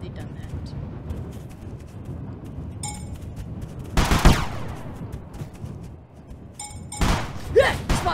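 Video game gunfire while shooting bandits: two loud bursts of shots stand out against quieter in-game ambience, the first near the middle and the second toward the end.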